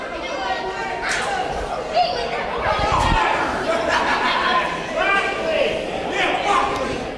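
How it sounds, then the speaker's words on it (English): Indoor NAWA wrestling crowd in Lenoir, NC keeps up a steady murmur of chatter with scattered laughs and shouts, mid-distance, with a few nearer voices over the din. "Very vocal crowd."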